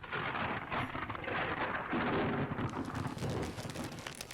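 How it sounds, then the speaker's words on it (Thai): A sudden rain shower pours down steadily as a dense, loud hiss with a low rumbling undertone, continuous and without voices. "ทำไมฝนตกปุ๊บปั๊บแบบน ี้"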